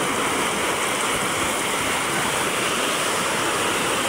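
Swollen river after Typhoon Kristine rushing in a steady, loud roar of turbulent water, a dense unbroken wash close by with no pauses.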